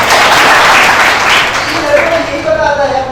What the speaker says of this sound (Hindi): ताली बाजू से